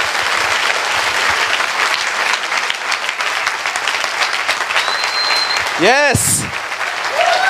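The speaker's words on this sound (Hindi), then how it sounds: "आइए प्रभु यीशु के लिए एक अच्छी ताली बजाएंगे हम सब मिलके" A church congregation at a Hindi-language worship service applauds loudly and steadily, with a voice calling out over the clapping near the end and a brief whistle-like tone.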